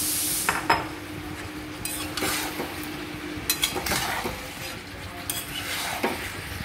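Boiled potatoes and taro being sautéed in oil in a pan: soft sizzling with intermittent scraping and stirring clatter of a utensil against the pan, fairly quiet and close.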